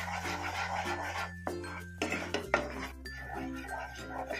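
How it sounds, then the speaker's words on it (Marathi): Ground masala being stirred in a pan over a low flame, soft scraping and clinks of a spoon against metal, close and fairly quiet over a low steady hum. "त्याच्यात 10-1 मिनिटं आपण आता हा मसाला परतून घेऊया."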